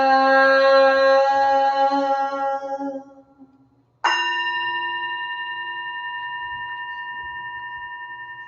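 A resonant bell tone fades out, then a single clear strike rings again during a public religious service, its bright metallic tone sustaining and slowly decaying in stillness.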